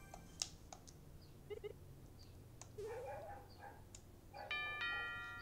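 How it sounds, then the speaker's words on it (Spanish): A doorbell ding-dong chime in the Nintendo Switch game Miitopia rings out faintly among scattered game blips and a rising tone, ending in a sustained bright chord. "¡Ding dong!"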